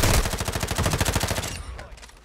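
Rapid automatic gunfire in a video game rattles out in one fast, evenly spaced burst of loud shots lasting about a second and a half before fading.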